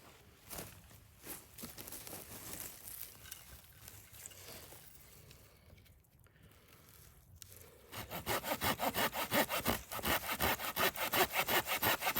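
A handsaw cuts a wooden walking stick to length, quiet handling and scraping at first, then loud rhythmic back-and-forth strokes close by for the last few seconds.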